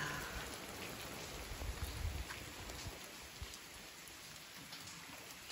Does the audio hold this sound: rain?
yes